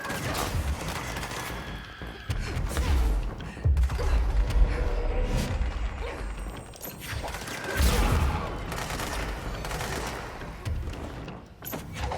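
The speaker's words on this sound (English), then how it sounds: "What are you shooting at?" Gunfire rattles in the video game Control, with repeated bursts of shots and echoing impacts spread across a busy, reverberant battle.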